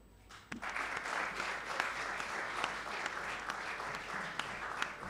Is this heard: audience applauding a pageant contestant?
yes